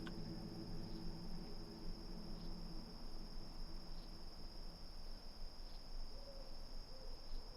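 An owl-like bird hoots in World of Warcraft Classic's Barrens, set against a steady bed of chirping crickets and low ambient wilderness hum. The calls are faint and distant, and no one speaks.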